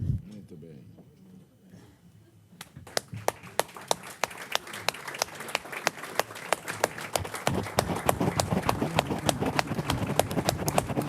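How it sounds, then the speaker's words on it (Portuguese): A large audience rises to its feet at a Portuguese-language tribute ceremony and claps, quiet murmur building into dense, sustained applause that grows louder and steadier, with individual sharp claps standing out near the front. "com todos em pé, para uma grande salva de palmas para o nosso querido Hernani Galveias"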